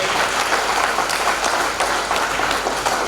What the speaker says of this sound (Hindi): जोरदार तालियां उनको जाए